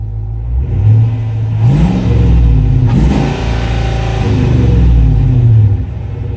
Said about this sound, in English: Rev it up once.